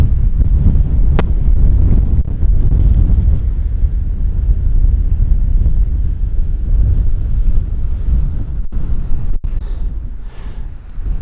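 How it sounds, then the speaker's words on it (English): Strong wind buffeting a microphone on the coastal cliffs at Ponta da Piedade near Lagos, Portugal, a loud continuous roaring rush with low gusty rumble, no talk. "it is a rather windy day here"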